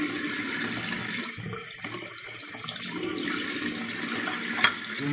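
Steady running water from a tap splashes into a sink as a shaving brush is rinsed and wrung out, a continuous close rushing sound with slight changes in the flow and no talking.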